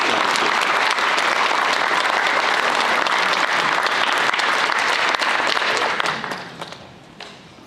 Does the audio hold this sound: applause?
yes